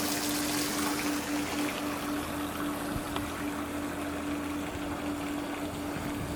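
Water trickles steadily and continuously, close by, with a faint constant low hum underneath and no voices.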